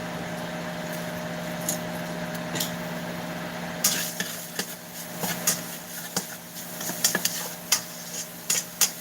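Minced garlic and seasonings cook in a hot pan for Filipino lumpia, a steady sizzle with a low hum beneath, then a run of clattering stirs and scrapes.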